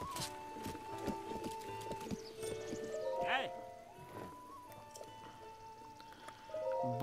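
Horse hooves clip-clop amid busy sound effects and music in The Legend of Zelda: Breath of the Wild, with a brief whinny in the middle and a voice speaking briefly.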